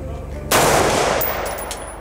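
A single loud rifle shot fired from a shooting bench cracks out sharply, then rings and decays over the following second and a half with no talking.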